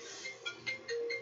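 A phone ringing from the floor gives out short repeated electronic tones, with a longer sustained note near the end. The ringing is moderately loud with no talking over it.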